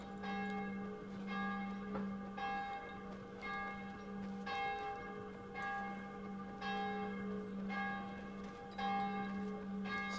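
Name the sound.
church bells ringing at 7 PM in video game Dying Light 2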